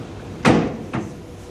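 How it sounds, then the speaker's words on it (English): A drawer slides out of a solid wood cabinet bed with two quick wooden knocks, a louder one followed by a softer one, close and alone. "Pull out the drawer."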